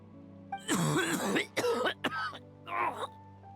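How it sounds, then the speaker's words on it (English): A game character in Lost Ark coughs and clears his throat in a few rough, close bursts separated by short pauses, alone over a faint low background hum. "That was some really good cough acting."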